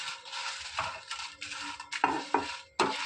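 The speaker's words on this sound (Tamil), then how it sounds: "காஞ்ச மிளகாவை கொஞ்சம் சூடு ஏற வறுத்துக்கணும்" Dry red chillies without stems being dry-roasted in a kadai for a chickpea curry masala, a quiet clatter of light scraping and rustling stirs with a few sharper knocks against the pan, no talking.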